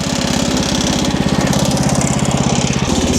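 Wood-Mizer LX50 Super sawmill sawing an inch board, a loud, close engine drone with a rapid chugging pulse and the steady hiss of the blade in the wood.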